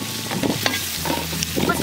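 Onions sauté in a pan for a crab curry, a short burst of sizzling and frying with quick stirring scrapes close by.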